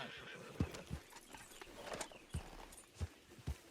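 A horse walking in the Red Dead Redemption 2 video game, with soft irregular hoof clip-clops at a slow gait, fairly faint and close, against low ambient background.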